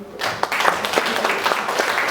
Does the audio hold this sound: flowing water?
no